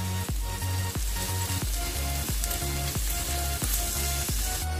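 Sliced onions sizzling steadily in a pan with ginger-garlic paste, a continuous close frying hiss with a regular pulsing rhythm running throughout, no voices.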